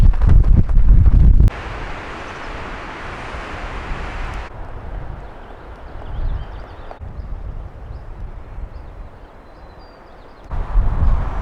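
Strong, cold wind in the High Sierras buffets the microphone in loud, roaring gusts that ease to a steady lower rush, then swell again near the end; no one speaks.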